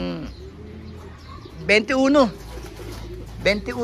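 Young racing pigeons coo softly in a loft, with low murmuring calls throughout and two louder, throaty cooing bursts near the middle and end.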